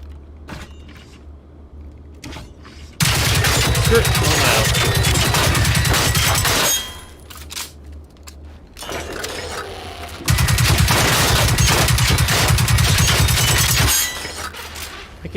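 Robot gunfire in the video game Generation Zero comes as two long, loud bursts of rapid shots, each lasting several seconds with a pause between them, over quieter background game sound.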